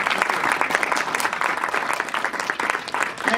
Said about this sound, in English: Again, round of applause for him